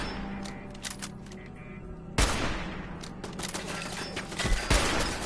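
Machine gun fire in the Fallout 4 video game, during a survival-mode fight: sharp shots and short bursts at moderate distance, with a loud close blast midway and scattered reports over a steady background.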